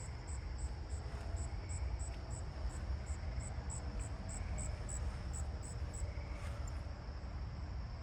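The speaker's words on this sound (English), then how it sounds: "slowly walk towards it and see how close I can get to the southern ground cricket" A southern ground cricket chirps in short, evenly spaced high pulses through a garden at night, fairly faint against a steady low rumble of background noise, with no voices.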